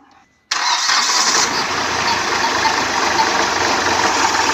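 A car engine, from a Hyundai Xcent or Mahindra Scorpio just back from a major service, cranks and catches abruptly after a brief quiet moment, then settles into a loud, steady idle close by.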